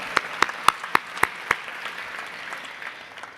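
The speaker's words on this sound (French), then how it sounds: "Vous pouvez vous applaudir aussi." Congress attendees at a closing session applaud, with a handful of sharp, close individual claps standing out early over a soft crowd patter that thins toward the end.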